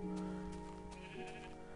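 Sheep in the Minecraft video game bleat in a steady, close, synthetic-sounding call that fills the short moment alone, with no talk over it.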